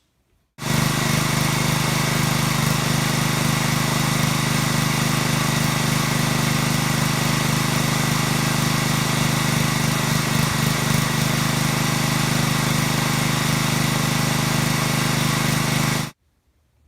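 Pressure washer engine running at a steady, even speed with no surging or hunting, loud and close, a continuous drone that starts abruptly and stops abruptly about fifteen seconds later.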